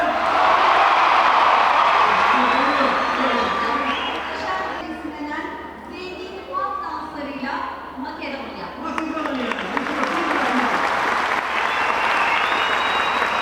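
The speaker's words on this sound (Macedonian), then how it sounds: "ги освоја срцата на публиката и добија громогласен аплауз" An audience at a world children's festival in Cappadocia applauds a Macedonian folk dance ensemble, a loud burst of clapping that thins and fades while a voice speaks over it, then swells again.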